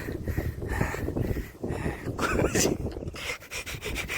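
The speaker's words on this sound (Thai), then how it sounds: "เสียงหอบนะเพื่อนๆ" A person pants heavily after climbing at a temple, close and breathy, with uneven rhythmic gasps and some rubbing noise.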